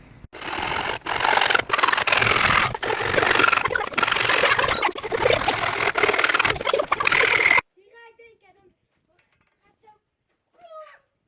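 Aluminium scrap is being cut into small pieces for melting: harsh, continuous rasping and grinding for about seven seconds, then near silence with a brief faint voice.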